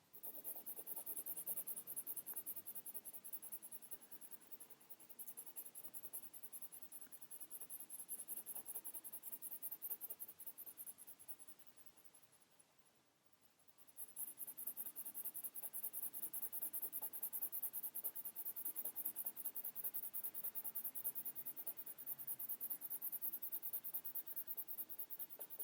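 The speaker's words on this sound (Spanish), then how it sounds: "La forma en la que estoy aplicando este color gris es con círculos para que quede lo más uniforme" Graphite pencil shading gray tones on paper in small, steady circular strokes for an even drawing of a pumpkin, a continuous soft scratchy rubbing that pauses briefly midway, close and quiet with no talk.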